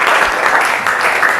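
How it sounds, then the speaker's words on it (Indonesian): A classroom of students claps for a classmate, a short burst of dense, fairly loud applause. "Beri tepuk tangan buat Desta."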